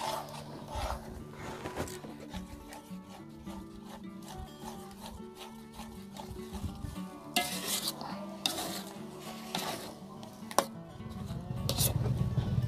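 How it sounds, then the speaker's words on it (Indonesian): A utensil stirs tofu batter in a hot pan with soft, irregular scraping and rubbing strokes over a faint sizzle, quiet and close, with a couple of louder scrapes near the end. "Dan kita aduk-aduk sampai benar-benar mengental."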